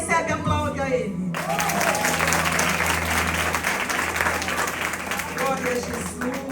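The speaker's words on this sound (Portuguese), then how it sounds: "E quem recebe, aplaude a Ele." A church congregation bursts into loud applause after a short stretch of a woman preaching, dense clapping and some cheering from the crowd, with a voice returning near the end.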